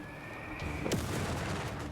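Company of Heroes 3 battle sounds with a single sharp artillery impact midway through, followed by rumbling debris over a quiet background hum; no voices.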